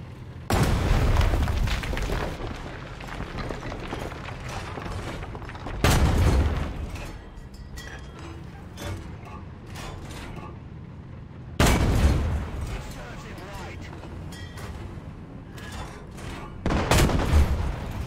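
Heavy tank cannon fire in a video game, APDS rounds punched through buildings at enemy EBR vehicles: four loud booming shots spaced several seconds apart, each with a rumbling tail.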